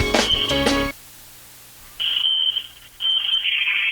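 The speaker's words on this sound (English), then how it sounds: "we have a fire alarm walk going off here in the gym" A fire alarm in a school gym during a girls' basketball game sounds in loud, sustained electronic tone pulses with short gaps between them, after a brief burst of other sound.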